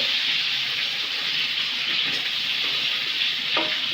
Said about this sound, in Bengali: এই দেখুন আমার সজনার আলু তেলের মধ্যে দিয়ে একটু হালকা ভেজে নেব